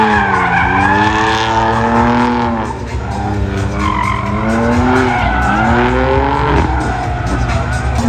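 A Nissan GT-R tuned to around 1600 bhp drifting at a show, its tires squealing in long continuous wavering screeches over a loud roaring engine, close and sustained throughout.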